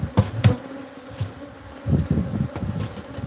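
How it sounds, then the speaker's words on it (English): Aggressive killer bees buzz near the hive in loud, close passes that rise and fade irregularly over a low constant swarm hum. "There's some mean-ass bees up here."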